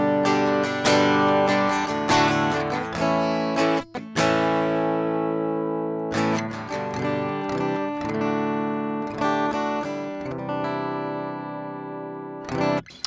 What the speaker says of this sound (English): So you're just going to get like a natural kind of DI'd acoustic sound